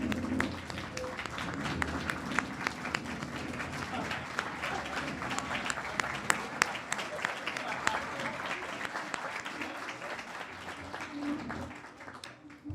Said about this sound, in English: please stand as we applaud you.